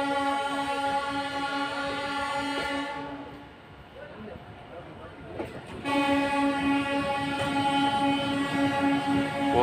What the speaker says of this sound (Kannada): ಸರಕು ಸಾಗಾಣಿಕೆಯ ರೈಲು.